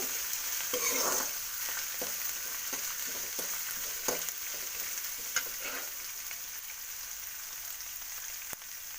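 Semolina stirred in a hot pan for instant vegetable idli makes a soft, continuous sizzle with scraping strokes and a few light clicks and taps of a spoon, heard up close at low level.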